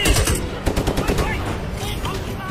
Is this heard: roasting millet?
no